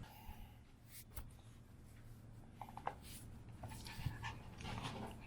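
A dog pants steadily close by in a kitchen, quick breathy puffs running under faint clatter and shuffling throughout.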